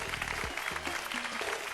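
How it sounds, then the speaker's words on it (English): A studio audience at a TV show applauds contestants with a brief, continuous wash of clapping while a voice speaks over it. "Give them a round of applause."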